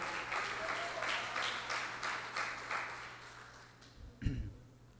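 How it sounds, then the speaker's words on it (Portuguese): A church congregation claps for the Lord during a sermon, a fairly faint, rhythmic wash of hands with a brief louder thump near the end. "aplauda ao Senhor"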